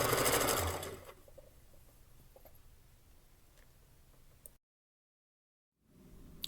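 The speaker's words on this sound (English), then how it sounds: "So I'm doing a straight stitch right here in this stitch that's already there on the piping of the blouse." A sewing machine runs a straight stitch along blouse piping, whirring loudly for about a second, then settling into a faint mechanical hum before a brief silence and a soft return.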